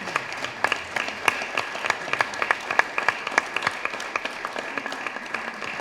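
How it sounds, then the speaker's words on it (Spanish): An audience at a book presentation for author Jesús Lemus at a book fair claps steadily, a sustained wash of applause with sharp individual claps standing out, fairly close. "Propongo que le demos un aplauso a Jesús Lemus"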